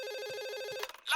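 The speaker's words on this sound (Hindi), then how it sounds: "अब कौन फोन कर रहा है मुझे?" A cartoon telephone rings in rapid repeated electronic trills, steady and clear, cutting off near the end with a short clatter.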